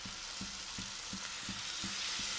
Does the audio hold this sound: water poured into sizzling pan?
yes